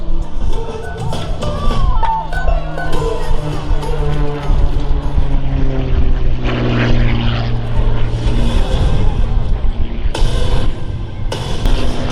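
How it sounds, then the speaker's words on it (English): An MX2 aerobatic propeller plane at an airshow passes overhead above a mid-engine Corvette. Its loud, steady engine and propeller drone rises and falls in pitch as it flies by, filling the whole stretch. "It is the MX2 RH, Rob Holland, and right above the mid-engine Corvette"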